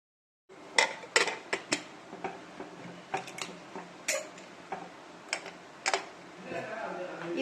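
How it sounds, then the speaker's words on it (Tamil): A metal lid is set onto a cooking pot, likely a pressure cooker, while vadacurry is being made in a kitchen. It makes a series of clinking, clattering metal knocks, moderately close, with a few louder clanks among softer taps. "இப்ப நம்ம மூடி போட்டு மூடிக்கலாம்."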